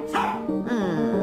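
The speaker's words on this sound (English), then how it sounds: "A bark heard around the world." A dog barks close and loud in two short, full-throated bursts, with no other sound around them.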